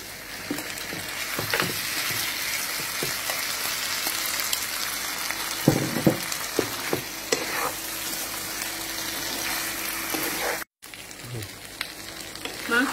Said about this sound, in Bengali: দিয়ে দেবো ভাজা মাংস